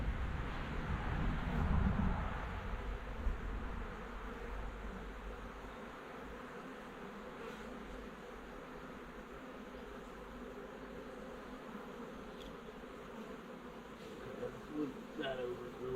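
Honey bees from a wild colony living in a storm-felled tree hum steadily throughout, a dense continuous drone close by with wind rumble and handling noise underneath, strongest in the opening seconds.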